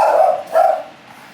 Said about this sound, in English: Is there another dog out there?